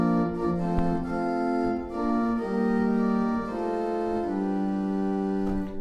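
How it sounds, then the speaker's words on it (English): A pipe organ sounds its open diapason stop through metal pipes, holding sustained, full chords that shift slowly from one to the next, steady and even in loudness with no talking. "the most basic tone of a pipe organ is something called the diapason, the principle"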